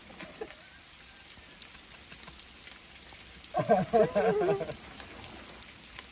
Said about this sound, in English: I like the sound of the rain and waterfalls, and the beach, anything water.